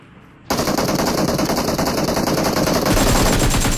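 Rapid automatic gunfire in the mobile shooter Battlegrounds Mobile India bursts in after a brief quiet, a loud continuous fusillade of fast close shots lasting to the end, with no talk over it.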